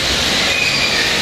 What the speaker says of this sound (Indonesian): Kereta apinya mulai melambat, teman.